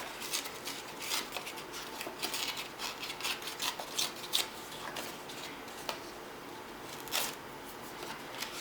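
Paper torn slowly by hand for a junk journal collage, a series of close, soft rasping rips and crinkles in short bursts, quiet and intimate with no talking.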